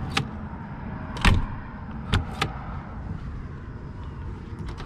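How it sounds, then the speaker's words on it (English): Heavy sound-deadened doors on a 1990s Roadtrek 210 campervan close with several dull thuds and clunks spread over a few seconds against a quiet background. "They were insulated with sound deadening and you can hear them"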